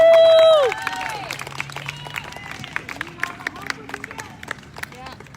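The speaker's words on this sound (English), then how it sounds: "Let's give him a round of applause." A crowd at an outdoor rally for unmasking student athletes at the Michigan State Capitol bursts into sustained applause and scattered cheers after a loud opening shout, the clapping dense and continuous at moderate distance.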